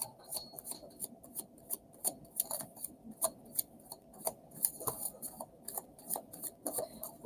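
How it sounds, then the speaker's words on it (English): Tarot cards are shuffled by hand in a long run of quick, crisp flicks and taps, irregular clicking bursts close up with no talking. "That was a long shuffle."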